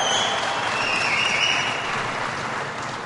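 Steady, dense applause from a large audience at a presidential event in Detroit, a continuous wash of clapping that fades slightly toward the end.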